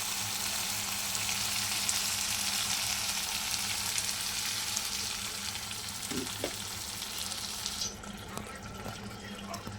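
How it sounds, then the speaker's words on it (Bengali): Water poured into a hot pan of jackfruit and prawn curry gives a steady close hiss and splash, the sizzle cutting off sharply near the end. "চল এবার অল্প জল দিয়ে দিই"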